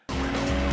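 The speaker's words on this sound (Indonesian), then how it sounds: "Frank kembali memacu mobilnya untuk menghindari dari polisi." A car speeds away from police in a movie chase, its engine starting abruptly and roaring loud and steady, with a brief hint of tire squeal.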